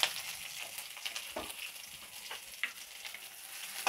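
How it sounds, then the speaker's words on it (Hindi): Chopped onion and kalonji seeds frying quietly in a pan, a soft, continuous hiss with a few faint spoon scrapes and no voices. "थोड़ा सा भून देती हूँ"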